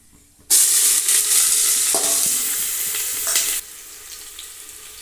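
Onions frying in hot mustard oil with a loud sudden sizzle as they hit the pan, steady crackling and stirring scrapes, then the sizzle drops to a quieter simmer near the end.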